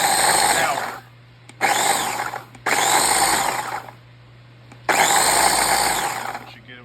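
An electric grinder pulverizes dried tomato skins into powder, whirring loudly in four separate runs with short quiet pauses between them.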